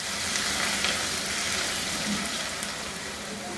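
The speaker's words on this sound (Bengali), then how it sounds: "আমি চুলায় অল্প কিছু সরিষার তেল গরম দিয়ে তার মধ্যে চিংড়ি মাছগুলো দিয়ে একটু ভেজে নিব।" Prawns sizzle in hot mustard oil in a pan, a steady dense frying hiss with faint crackles running throughout, close and alone.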